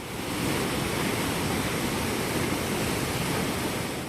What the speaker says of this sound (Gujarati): નદીમાં જોરદાર પૂર આવ્યું।